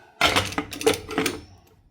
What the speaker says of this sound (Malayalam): അതിന് കുക്കർ ക്ലോസ് ചെയ്ത് കൊടുക്കുക.